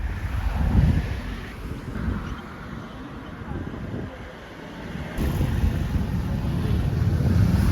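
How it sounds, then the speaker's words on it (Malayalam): Wind and surf on the seashore at Kanyakumari: a steady, rough roar of waves with gusty wind buffeting the microphone, swelling louder near the start and again toward the end. "കടൽ തീരം"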